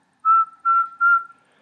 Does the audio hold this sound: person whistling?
yes